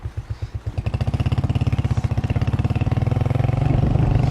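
A motorcycle engine starts with slow separate chugs, then settles into a fast, steady, close putter that holds loudly to the end.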